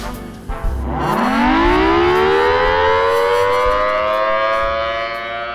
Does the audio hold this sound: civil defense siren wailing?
yes